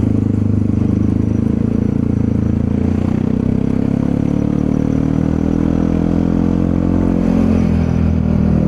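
An automatic scooter-style motorcycle drones steadily on the road up toward Mount Bromo, its engine a loud, constant low hum with wind rush, no voices over it.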